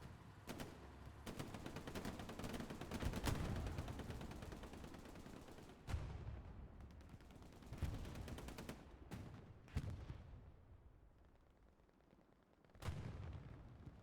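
Machine gun fire from rooftops during a competitive Hell Let Loose match on Omaha Beach, dense rapid bursts and heavy booming shots stacking in the distance, pausing and then resuming, with no voices.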